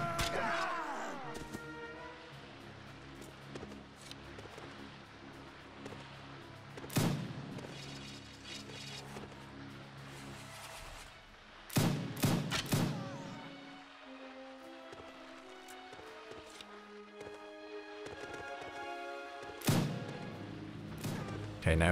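Scattered rifle volleys and crashing impacts from a rifle company in a Warband mod battle, several sharp loud bursts spaced across a quiet, rumbling background.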